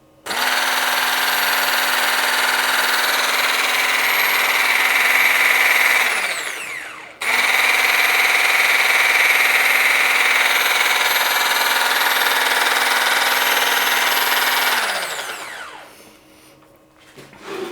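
A Cecotec Power Titan Black 1200 XL hand blender whirs loudly in two long bursts, its motor pitch steady then winding down at the end of each run, with a brief pause between them.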